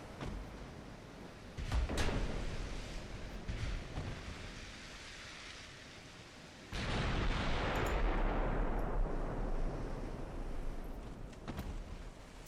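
Heavy battleship 18-inch naval guns fire in Ultimate Admiral: Dreadnoughts, a booming blast near 2 seconds followed by a second massive roaring discharge around 7 seconds that rumbles and decays slowly, with no voices.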